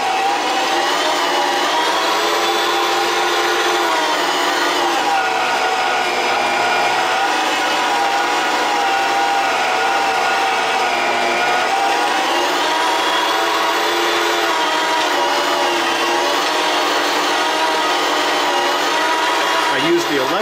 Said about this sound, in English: I use the electric grinder because I'm lazy